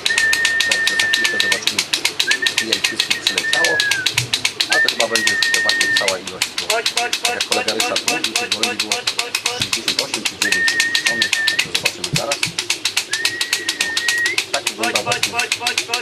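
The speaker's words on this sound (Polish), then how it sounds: "Przy ostatnich kilka gołębi." Racing pigeons cooing repeatedly nearby during young-bird training, low soft calls recurring under a busy background with music and a voice.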